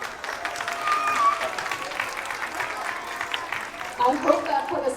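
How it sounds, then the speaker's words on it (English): Children and adults at a K-2 school Veterans Day assembly clap after a performance, a steady moderate wash of applause with crowd noise and voices mixed in, swelling briefly near the end. "Round of applause again for you."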